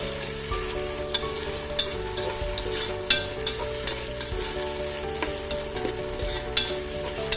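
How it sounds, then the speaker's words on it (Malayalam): Chilli chicken in a pan being stirred after sauce is poured in: repeated scraping and clacking strokes of a spoon or spatula at an uneven rhythm over a soft, steady sizzle, close and moderately quiet. "സോസ് ഒഴിച്ചിട്ട് നന്നായിട്ടൊന്ന് ഇളക്കി കൊടുക്കാം."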